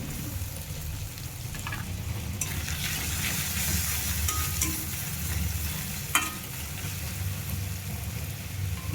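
Chopped tomatoes frying in a pan for chicken curry, a moderate close sizzle with occasional scraping stirs and a sharp clack near the end.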